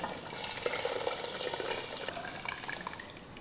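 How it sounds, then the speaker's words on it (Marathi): Cooked vegetables and their water pour into a large pot of pav bhaji for a party, a faint, continuous splashing wash of liquid with no talking. "आता हे शिजवून घेतलेल्या भाज्या पाण्यासहित घालायच्या"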